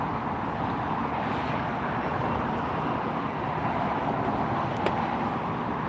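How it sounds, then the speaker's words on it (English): An Iberia Airlines jet taxis at LAX with a steady, broad engine roar that holds at an even level from start to finish. "Iberia Airlines taxiing in front of us now."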